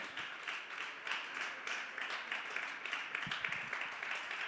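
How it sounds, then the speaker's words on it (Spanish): A church congregation applauds, giving a sustained round of dense clapping with individual hand claps audible in an uneven rhythm, fairly soft and a little distant, with a thump near the end. "dale fuerte el aplauso al Señor"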